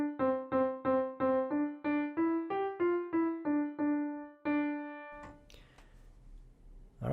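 A piano plays an easy melody from a song: about a dozen clear single notes in an even, stepping rhythm, ending on a held tone. A brief rustle follows.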